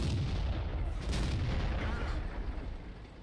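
A Tiger P tank's main gun fires a shell at a KV-3 in World of Tanks, a heavy booming blast with a long rumbling decay that fills the whole moment, loud and close with no talk over it.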